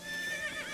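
A horse's neigh in The Legend of Zelda: Breath of the Wild, a single short, bright whinny heard alone at moderate loudness.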